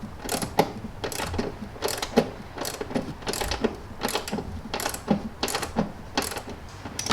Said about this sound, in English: We've got the torque wrench out.